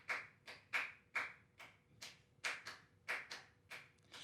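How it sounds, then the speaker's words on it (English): Cuban Zapateo clave pattern, a series of crisp, bright wooden taps in an uneven repeating rhythm, eleven strikes over a few seconds, each ringing briefly, fairly quiet and alone. "The clave on Zapateo sounds like this."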